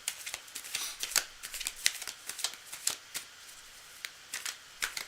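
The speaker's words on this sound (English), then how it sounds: "I'm still shuffling." Playing cards being shuffled for a tarot-style reading, close and crisp: a steady run of quick riffling bursts and sharp flicks, repeated in uneven clusters over several seconds with no talking.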